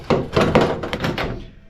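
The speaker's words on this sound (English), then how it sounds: "Perfect day to fight with a door handle." A pickup truck door handle is yanked and forced, giving a run of dull, knocking thunks and rattles at close range over about a second and a half. No talk is heard.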